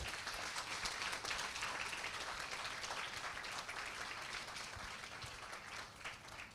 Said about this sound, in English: Can we have a huge round of applause to show your support?